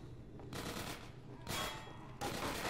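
Gunfire from Half-Life 2: Episode Two arrives in three dense bursts around half a second to a second long, split by short lulls, with no talk over it.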